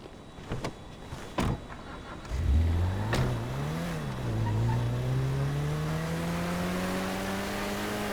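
Car engine in Grand Theft Auto V, a few sharp knocks and door-like thuds first, then the engine starts and revs, climbing and settling into a steady rising drone as the car pulls away.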